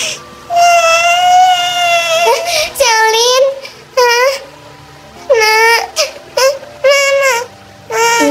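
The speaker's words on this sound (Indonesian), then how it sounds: "Itu suara anak saya loh nangis." Child crying in the Avatar World mobile game, loud repeated wailing sobs in several bursts with short gaps between them, close and clear.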